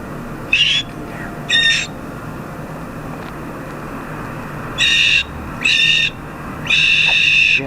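A bird screams in a cemetery, giving shrill, harsh squawks: two short calls early, then three more bursts later, the last one longest, close and loud over a steady background hum.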